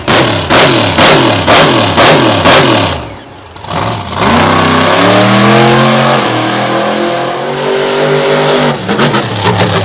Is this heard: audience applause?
no